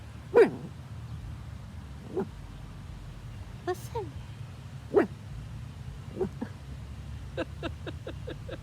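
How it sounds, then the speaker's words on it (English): A dog barks outdoors at other dogs across the way, sharp barks scattered across the clip and a quick run of yips near the end, with a person speaking briefly in between. "So now she's barking at them."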